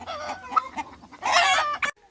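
Chickens clucking inside a coop, with several short calls followed by a louder, busier burst of clucking and squawking before it stops abruptly.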